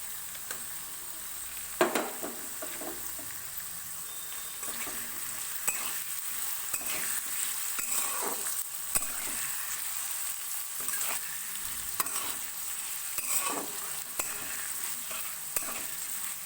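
Chopped coconut sizzles in a pan with lightly fried potatoes for Bengali chholar dal, a steady frying hiss broken by repeated scraping stir strokes, close and fairly quiet, with no talking.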